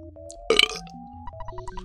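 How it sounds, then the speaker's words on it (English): A cartoonish belching effect from the SNES game Earthbound sounds amid chiptune music, one loud burst rising over the bouncy electronic melody before the tune carries on alone. "Belch has gotta be back here. Ew, God, you're gross"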